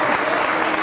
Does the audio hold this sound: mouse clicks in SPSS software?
no